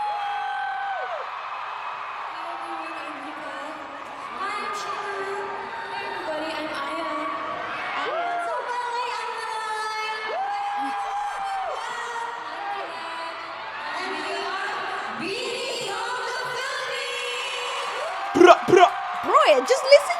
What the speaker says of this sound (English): just listen to the freaking crowd